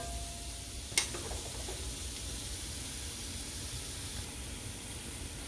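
Onions sizzle steadily in a pan, a faint even hiss throughout, with a single sharp click or tap near the start.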